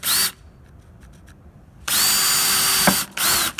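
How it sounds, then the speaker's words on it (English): A power drill whines loudly as it bores a hole in wood for a scroll saw project, running in two long bursts with a short pause between, then a brief final spurt. "You drill a hole in there."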